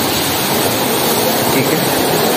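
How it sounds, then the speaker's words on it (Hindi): Natural water pours down from above inside the Ilyasi mosque in Abbottabad, a steady, loud, continuous rushing wash like a small waterfall that fills the whole span without pause. "ये ऊपर से कुदरती पानी आ रहा है"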